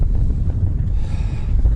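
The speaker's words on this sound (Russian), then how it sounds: "Как обычно, ветрено. Здесь всегда ветрено." Strong wind buffets the microphone out on a large frozen lake during an ice-fishing trip, a loud, continuous low rumble with gusty fluctuations and no voices.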